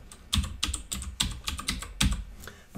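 Fingers type a search for Notepad on a Windows 10 computer keyboard, a close run of crisp, irregular keystrokes with a few heavier taps, alone without speech.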